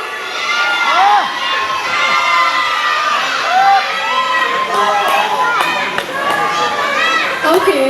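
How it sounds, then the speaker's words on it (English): Large crowd of young voices cheers and shouts continuously at a pageant contest event, loud and excited with overlapping high-pitched screams and whoops throughout. "Make some noise, Ajay"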